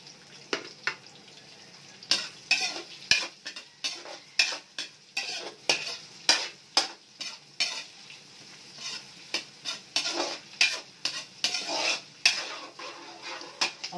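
Garlic frying in a pan and being stirred over and over, with repeated scraping clicks of a utensil against the pan in a fairly steady rhythm over a constant close sizzle, no voices.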